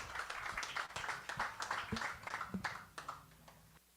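Audience at an open mic claps and cheers in a dense, close burst of applause that holds steady for about four seconds before tapering off abruptly.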